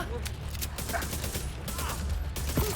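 Rapid video-game gunfire from The Division 2, a dense clatter of automatic shots running through a tense firefight, with voices calling out over the shooting.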